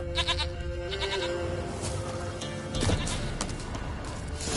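A goat bleats in The Witcher 3, a few clear cries rising over game ambience and background music, fairly close and loud.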